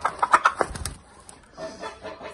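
Hens rescued from the egg-laying industry cluck at a farm animal sanctuary in winter, a few quick close clucks followed by quieter scattered calls.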